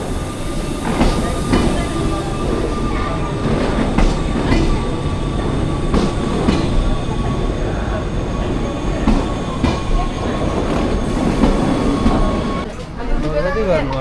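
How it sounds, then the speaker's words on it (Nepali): A Swiss mountain train rumbles and clatters loudly and close by, a continuous rolling rail noise with rhythmic clicks, while people talk over it. "सो यो हाम्रो ट्रेन हो"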